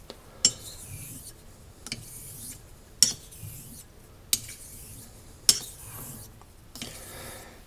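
Steel straight razor stroked across a Japanese natural whetstone in slow, regular passes, each beginning with a sharp scrape and fading into a soft grinding rasp, close and clear with no talk.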